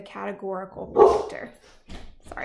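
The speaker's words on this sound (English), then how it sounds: "that's my dog." A pet dog barks once, loud and sharp, in the middle of a lecturer's speech, with talking before and after the bark.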